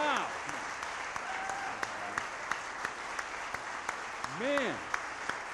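A church audience claps for the choir and band after a performance, steady broadband applause running throughout, with a voice briefly calling out and shouting over it.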